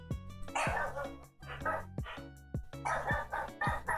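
A dog barks repeatedly in loud, close bursts, several sharp barks spaced through the stretch with brief pauses between them.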